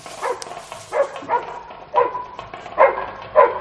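Several dogs bark in short repeated bursts near a village, each volley separated by brief pauses, at moderate distance and fairly loud.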